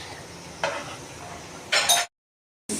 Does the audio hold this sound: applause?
no